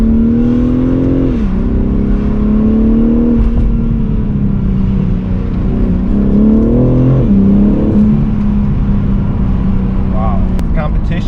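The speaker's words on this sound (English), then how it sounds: "we're just going to cruise up the rev range so we can hear the motor" A BMW M3 Competition G80 engine climbs steadily through the rev range, a loud, sustained rising drone with brief dips between pulls, heard close and continuous throughout.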